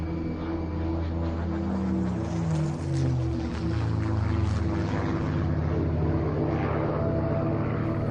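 A Supermarine Spitfire's piston engine and propeller drone loudly and continuously, a steady dense roar with a throbbing low hum and no talk.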